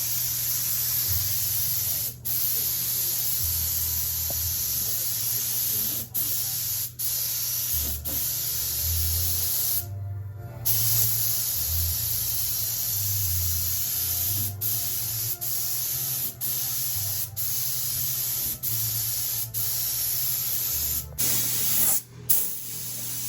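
Primer sprays from a paint gun onto a 1976 Dodge D100 cab as a long, steady hiss with a low compressor hum beneath, broken by a few brief trigger releases.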